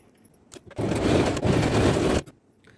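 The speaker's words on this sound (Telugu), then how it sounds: "ఇలా ఒక 1/2 ఇంచ్ మార్జిన్తో స్టిచ్ అనేది వేసుకోండి" A sewing machine runs one continuous stitching burst of about a second and a half along a kurti seam with a half-inch margin, close and fairly loud, with quiet gaps before and after and no talking.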